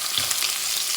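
Lamb chops fry in a hot pan with a steady, bright sizzle that stays loud and close, no voices over it.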